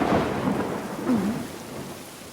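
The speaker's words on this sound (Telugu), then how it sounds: "వర్షం పెద్దదవుతోంది నీళ్లు కాల్వాకి తిప్పాలి" Heavy rain pours steadily with rumbling thunder rolling underneath, a loud, dense wash of sound throughout with no voices.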